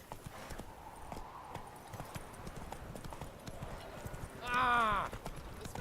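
Roach the horse galloping in The Witcher 3, a quick rhythmic clip-clop of hooves throughout, ending in a loud neigh near the end, with game voices speaking over it.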